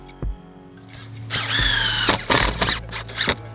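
Power drill driving a couple of screws into a wooden build, heard as short whirring and squealing bursts at close range, with a loud stretch partway through and brief knocks between bursts.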